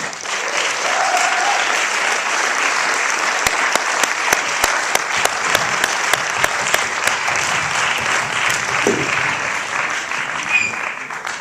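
Sustained audience applause for a guest at a Berlinale Q&A, dense clapping from a full room lasting throughout, steady and loud with a few sharper claps standing out midway.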